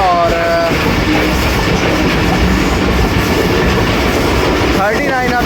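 Inside the Rehman Baba Express between Rawalpindi and Faisalabad, a loud continuous roar of wheels on rails fills the whole stretch, with brief squealing tones near the start and again near the end.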